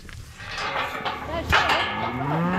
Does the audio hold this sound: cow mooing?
yes